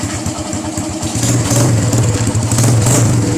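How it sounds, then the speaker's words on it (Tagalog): A repaired motorcycle engine runs on a small amount of test gasoline, a close, loud, rapidly pulsing idle that rises slightly in intensity across the few seconds. "nilagyan namin ng konting gasolina para matesting paanda"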